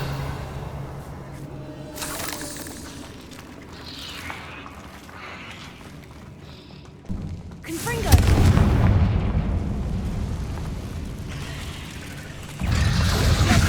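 Confringo fire-blast spell in the Hogwarts Legacy video game, heavy booming explosions that swell loud and rumble on, with quieter sharp bursts before and a fresh blast near the end.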